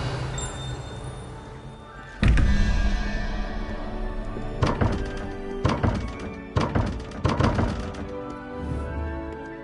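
The Revelio spell is cast in Hogwarts Legacy: a sharp magical thunk and whoosh bursts out over a soft game backdrop, followed by several more percussive hits and a ringing shimmer.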